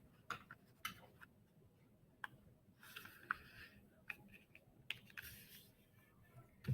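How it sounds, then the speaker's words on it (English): A strip of paper is folded in half for a 3-D paper snowflake, heard close and quiet as a series of soft crisp creases and taps with scattered rustling. "And you're going to fold that in half."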